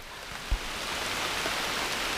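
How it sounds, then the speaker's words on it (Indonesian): Steady hiss of rain falling in a dense jungle forest, an even wash of drops with one faint thump near the start, moderately quiet with no voices. "Sekarang sudah turun hujan."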